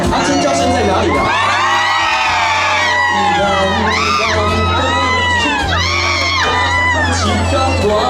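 A Christmas concert audience at Xinyi Vieshow in Taipei screams, whoops and cheers loudly in waves of high shrill voices, sustained over a steady musical backing.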